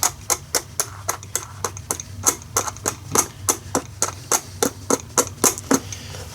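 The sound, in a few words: Princess Auto tumbler running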